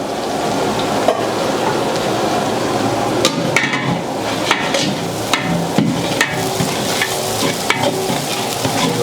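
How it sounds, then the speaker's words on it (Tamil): Mint and onions stir-fried in a large pot for a 7 kg batch of chicken biryani at a Coimbatore biryani shop, a steady dense sizzle under repeated sharp clanks and scrapes of a ladle against metal. "ஒரு அரை கட்டு புதினா இந்த வெங்காயத்தோட போட்டு வதக்கிக்கணும்."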